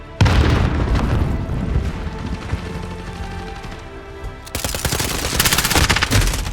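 A grenade explosion and gunfire in a video game: a loud boom opens over continuous battle noise, and another heavy burst of blasts and rapid shots arrives in the final seconds.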